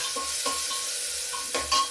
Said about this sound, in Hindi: प्याज काफ़ी भुन गया है मेरा।